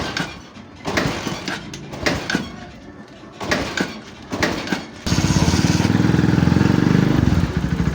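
A Honda TMX Supremo motorcycle that would not start finally fires up, preceded by irregular thumps and clatter, then a sudden steady loud engine drone running close for the last few seconds.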